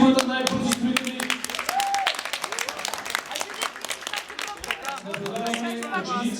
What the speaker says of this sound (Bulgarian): Аплодисменти за петимата най-бързо строители.